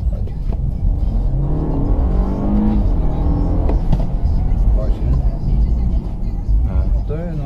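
Onboard a turbocharged 1.5-litre car accelerating hard through the gears, engine note rising and dropping at shifts, with people talking over the steady drive.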